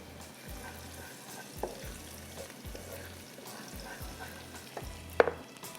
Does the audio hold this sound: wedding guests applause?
no